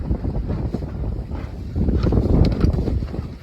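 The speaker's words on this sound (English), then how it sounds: "Now I'm on the central coast of BC, sailing on the water." Wind buffets the microphone while a sailboat moves through water off the central coast of British Columbia, with rushing low noise and faint splashing.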